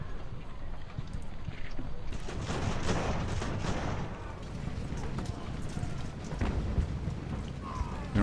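Artillery fire in the naval battle game Ultimate Admiral: Age of Sail, a steady rumble of distant cannon booms and crackling gunfire rolling on continuously, with a few sharper blasts standing out.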